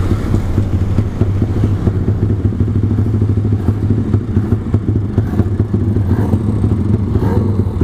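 Suzuki Satria two-stroke motorcycle fitted with a 240cc twin-cylinder engine, running loud and close with a dense, steady throbbing drone and a busy mechanical clatter throughout.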